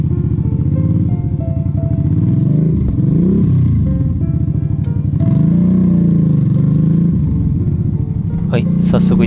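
A Kawasaki GPZ400F motorcycle engine drones steadily and loudly, pitch rising and falling as it revs and shifts gears while riding along.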